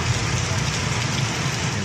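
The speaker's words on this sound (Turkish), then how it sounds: "Ardından yağmur da yağdı." Heavy rain pours down during a downpour in Mexico, a loud, dense, unbroken hiss with a low rumbling undertone that holds steady from start to finish.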